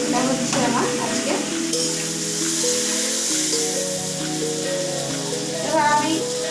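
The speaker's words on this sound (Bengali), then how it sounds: "এই যে আমার বাটা মাছ ভাজা এটা হচ্ছে আমার আজকে" Bata fish frying in a pan gives a steady sizzle throughout, while a person talks over it close by.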